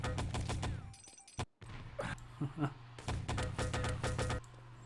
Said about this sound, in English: SA seems to try and shoot the grenade